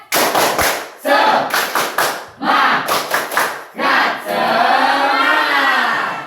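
An energetic crowd repeats a spirit clap routine during an icebreaker, with tight clusters of loud, unison claps and shouts in a set rhythm, then a long roaring cheer to close.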